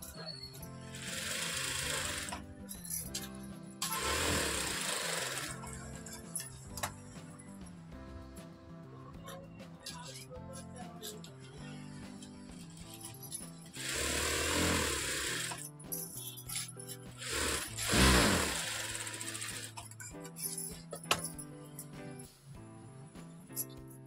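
A sewing machine stitches tucks into a simple blouse in several rapid whirring bursts separated by quieter pauses, close by, with a voice talking in between.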